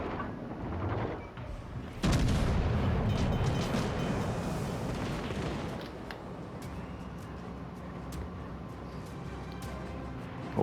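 Warship secondary guns fire in World of Warships Legends, the Mikasa battling the Avrora, with a heavy booming salvo followed by rumbling, crackling gunfire and scattered sharp reports that fade into a low background roar.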